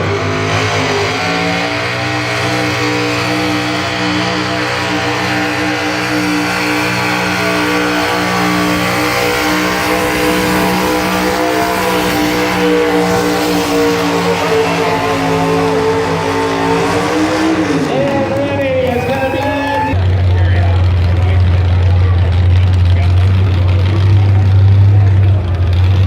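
A 1984 Chevrolet pulling truck engine roars loudly and steadily at a truck pull, its pitch climbing and then dropping before a deep, heavy idle-like drone takes over toward the end, with an announcer's voice partly under the noise.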